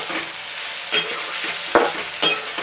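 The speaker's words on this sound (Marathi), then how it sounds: "व्यवस्थित जे आहे ते मिरचीचा परतून कच्चेपणा घालवा" Green chilies sauté in a pan for sabudana khichdi, a steady close sizzle broken by three sharp scraping stirs, with no voices.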